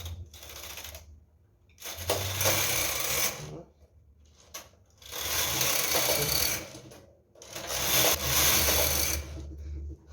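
A punchcard knitting machine works Fair Isle rows in two yarns, its carriage sweeping across in three long rattling, clattering passes separated by short quiet pauses, heard up close with no talking.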